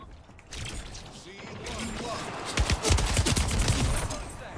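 Video game gunfire crackles in rapid, steady volleys at moderate level, growing denser partway through, with faint mechanical clatter mixed in and a voice briefly audible underneath.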